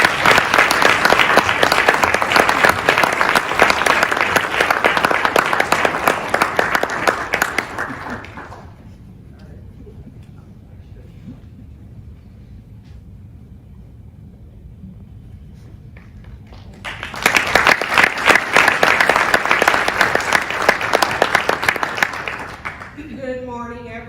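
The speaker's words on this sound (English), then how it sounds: "Round of applause, please." An audience at an award ceremony on a live morning show breaks into loud, dense applause, which fades to a murmur for several seconds and then swells into a second burst of clapping.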